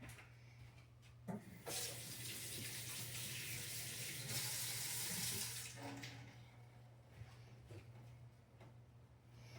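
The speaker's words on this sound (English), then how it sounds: "Let me rinse my hands off real quick." Hands rinsed under a running kitchen tap during cooking, a steady broad rush of water that swells and holds for several seconds, then tapers off, with a low hum beneath.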